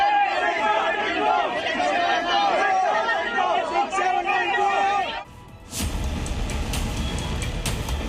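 A crowd of stranded passengers at Delhi airport shouts slogans in protest over cancelled flights, loud overlapping voices chanting and yelling, then a sudden cut to a rumbling vehicle-like background noise.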